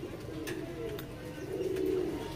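Salara Teddy pigeons coo softly nearby in a low, rolling murmur, with a couple of faint higher chirps over steady background noise.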